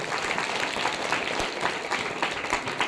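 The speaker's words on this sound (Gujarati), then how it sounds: "જોરદાર તાળીઓ થઈ જાય એકવાર." Audience applause for a performer at a school reunion gathering, a dense, even patter of many hands clapping continuously throughout at moderate distance, fairly quiet, with faint voices mixed in.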